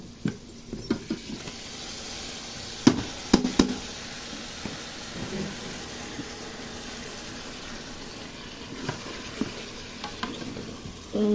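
Fish frying in oil inside a rice cooker as leafy greens go in, a low steady sizzle broken by sharp clatters of utensil scrapes and stirring, clustered early and again near the end.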